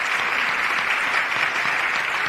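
Sustained applause from a town hall audience honoring mothers in Philadelphia, a dense, even wash of many hands clapping close by with no voices on top.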